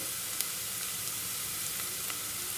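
Sliced onions frying in oil in a pan for chicken dum biryani, a dense continuous close sizzle with faint stirring crackles and no voices.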